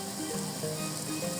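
Lentils with a teaspoon of cinnamon sizzle and fry in a pan, a steady close hiss that goes on without a break.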